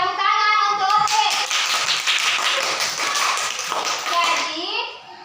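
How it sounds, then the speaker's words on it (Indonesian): A classroom of children clapping their hands for a classmate, a burst of quick, close claps layered with children's voices, tapering off near the end. "tepuk tangan untuk Upi"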